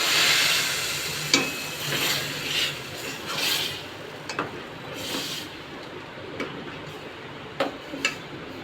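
Tempering sizzles in a pan for Kathiyawadi kadhi, a steady crackling hiss that starts loud and fades, broken by a few scattered taps and clinks of a spoon against the pot.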